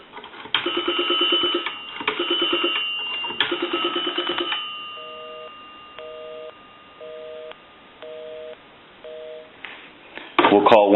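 A converted A&E three-slot open coin-return payphone being dialed: a quick run of touch-tone beeps, then a steady dial tone and five evenly spaced busy-signal pulses, ending in a burst of clicks and noise.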